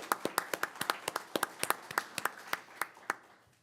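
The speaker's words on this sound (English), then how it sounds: "I think another round of applause is due." Audience applause at a city council session: a scattered round of individual claps, fairly close and distinct, that thins out and fades over a few seconds.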